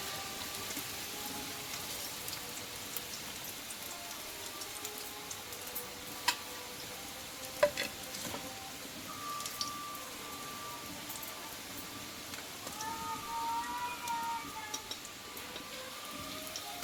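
Jackfruit seeds frying in a pan give off a soft, steady sizzle and light crackle, with occasional faint ticks and clinks from turning them.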